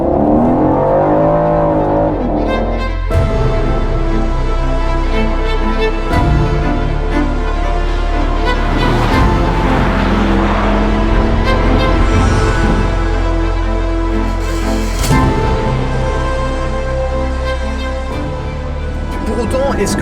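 An Aston Martin Vantage F1 Edition drives on the road, its engine note droning steadily and loudly throughout, with shifts and swells in pitch as it accelerates, under a voice talking in French.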